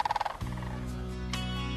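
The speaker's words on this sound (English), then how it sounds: "Cranes are the oldest living species of birds on the planet, so I figure that sound has been around for a long," Cranes calling in Surprise Valley, Modoc County, a quick series of rolling, gobbling trills followed by a sustained resonant bugling call, clear and fairly close with no talk.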